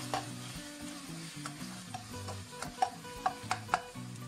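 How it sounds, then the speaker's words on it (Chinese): Oyster sauce and minced garlic stir-fried in a hot wok or pan, a steady close sizzle under scraping and stirring, with a few sharp clicks and knocks of the spatula near the end. "先把蚝油炒香"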